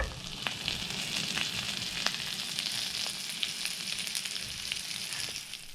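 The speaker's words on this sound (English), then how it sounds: "we'll smash the meat right into that sizzling butter on top of the onions" Steady, close sizzling of butter frying over onions on a hot Blackstone griddle, a continuous crackle with occasional sharper pops and no talking.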